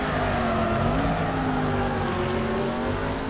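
A race car engine in Next Car Game drones at high revs with a steady, slightly wavering pitch, heard from the cockpit view without any voices.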